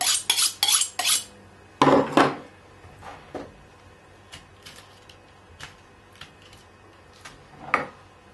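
Blunt knife scraping and trimming the dried crust off a dry-aged beef rib eye, with sharp metallic clinks and scrapes in bursts at first, then sparser ticks and taps close up, no talk.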